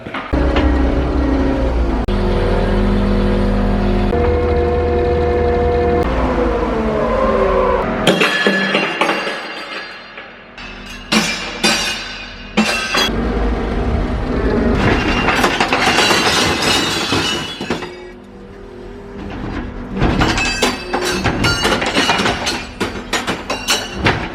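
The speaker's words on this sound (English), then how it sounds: "I'm thinking the skid loader bucket is going to be the most efficient for picking these up." Skid loader engine running loud and close while its bucket scoops up a load, with a heavy rumble and sudden clanking, clinking bursts as objects tumble and rattle against metal.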